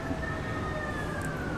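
Emergency vehicle sirens wail steadily through a Kansas City street, a long drawn tone sitting within constant dense traffic and city noise, moderately distant.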